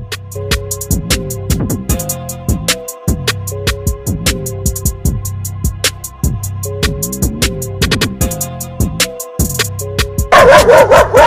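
A dog barks and yips repeatedly in sharp, rapid bursts, close and loud, with a busy music-like drone underneath throughout.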